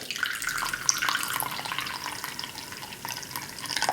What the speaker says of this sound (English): So I'm going to just pour my black tea that I prepared and has been steeping into my cup.